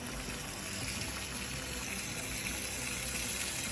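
Water mixed with antifreeze pours directly into a car's tank, a continuous, fairly close gushing and splashing with no break.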